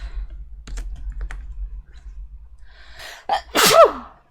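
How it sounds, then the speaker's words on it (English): A single loud, close sneeze bursts out near the end, after a few seconds of quiet room tone with faint scattered clicks like light keyboard typing. "I have to sneeze."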